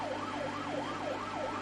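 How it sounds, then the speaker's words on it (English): A wailing emergency siren rising and falling in a steady repeating cycle, loud and continuous over a low engine rumble. "warning lights flashing and sirens wailing"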